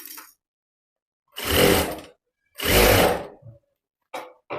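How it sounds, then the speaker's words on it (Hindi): Bursts from a sewing machine stitching a blouse: two clear runs of about a second each with silence between, close and fairly loud, then a couple of short mechanical clicks. "तो मैं अभी यहाँ पे डबल सिलाई लगा रही हूँ।"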